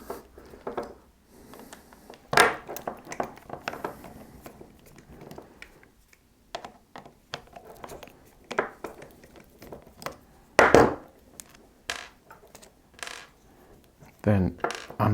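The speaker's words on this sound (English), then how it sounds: "So take these 3 screws out." Small screws are removed from the side plate of a Daiwa SL20SH fishing reel, producing sporadic close metallic clicks, scrapes and taps of a screwdriver and small parts, with a few sharper knocks in between.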